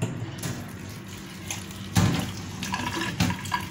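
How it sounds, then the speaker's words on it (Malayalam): Tap water runs steadily into a kitchen sink while ripe dates are rinsed by hand for laddoo, a close, continuous splashing with a few louder surges. "അപ്പോൾ നന്നായിട്ടൊന്ന് വാഷ് ചെയ്ത് വരട്ടെ കേട്ടോ"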